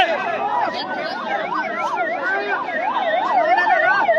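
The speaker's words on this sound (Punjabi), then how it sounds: "ਐਂਬੂਲੈਂਸ ਵੀ ਲੰਘਾਈ ਜਾ ਰਹੀ" An ambulance siren wails through a packed political rally crowd on a blocked road in Sangrur, Punjab, its loud, steady up-and-down cycles repeating without a break over a faint murmur of crowd voices.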